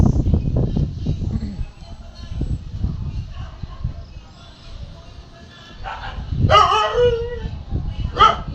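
A pet dog close by gives a few sharp yips and barks near the end, following rustling and background noise.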